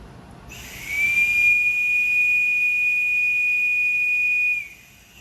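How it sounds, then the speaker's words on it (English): A pneumatic error detector in a pneumatic logic sensor blows a whistle: a single steady, piercing high tone held for about four seconds over a constant airy hiss, then stopping abruptly. "The resulting error signal from the error detector causes the whistle to be blown."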